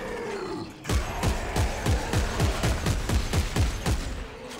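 Rapid gunfire from a weapon in the sci-fi horror video game Dead Space 3, about a dozen loud, evenly spaced booming shots with a low rumbling tail, firing steadily for several seconds.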